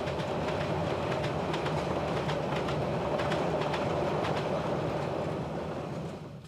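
A train runs on a narrow gauge railway in Austria with a steady, loud rumble and rhythmic clickety-clack of the wheels, and no voices, fading slightly at the end.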